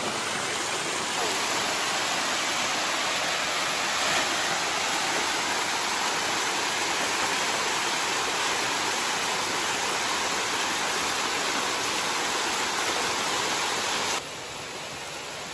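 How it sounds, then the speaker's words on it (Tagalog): A tall waterfall running low on water gives a steady, even roar that fills the scene for about fourteen seconds before dropping slightly quieter at the end. "Pinakataas ng fall."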